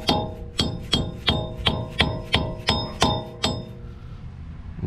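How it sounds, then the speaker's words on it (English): A wheel bearing on a fourth-generation Toyota 4Runner is hammered into place with eight sharp, evenly spaced metallic strikes, each ringing briefly, close and loud, before the blows stop. "And just hammer it on."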